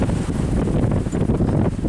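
Steady 25-knot tailwind roars and buffets against the microphone aboard a sailing boat off Martinique, a dense rushing noise with no voices.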